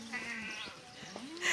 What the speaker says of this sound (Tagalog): Ang daming kambing.